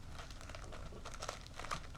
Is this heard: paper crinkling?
yes